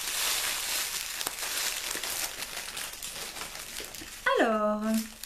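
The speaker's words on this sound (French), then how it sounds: "Donc désolée pour le bruit du papier." Paper wrapping crinkles and rustles continuously while a mystery candle box is unpacked, with small crackling bursts, then a short rising tonal sound near the end.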